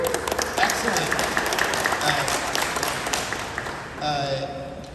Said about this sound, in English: Can you please applaud for both of them?